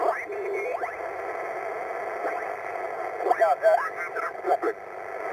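Shortwave radio receiver noise: steady hiss and static with warbling interference tones and brief chirps, fairly faint and continuous.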